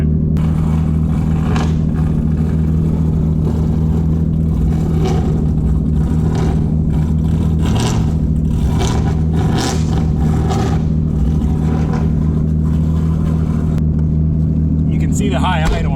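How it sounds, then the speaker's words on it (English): A JDM Nissan engine sitting at high idle around 1600 rpm after being neglected over a year, a loud steady low drone with a constant hum, while a person talks over it. "See the high idle now, even with the AC off, we're at 1600."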